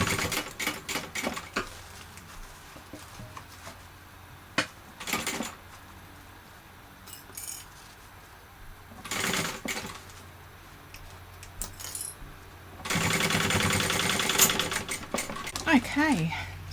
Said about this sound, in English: Now we're going to baste this together. Okay, so we're basting all this on at 1/8 of an inch.